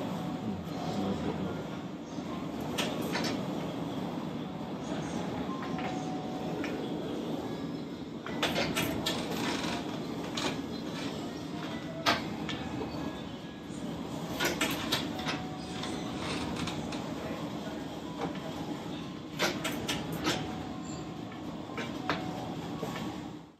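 A custom-built treatment machine runs with a steady mechanical hum and rattle, broken by irregular clicks and knocks, close and continuous with no talk.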